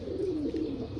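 A pigeon that is being given a home remedy coos low and continuously at close range for about a second, with no talking.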